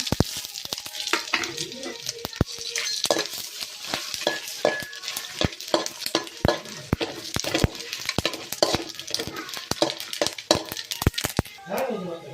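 Batter sizzles and fries in a pan while a utensil stirs and clinks against the metal, with frequent sharp scrapes and taps over a steady crackle, and a voice talks in the background.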